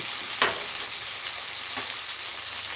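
Okra fries in a pan for a tamarind stew, giving a steady, close sizzle with a couple of faint clicks.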